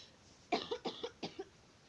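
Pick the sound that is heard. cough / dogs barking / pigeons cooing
cough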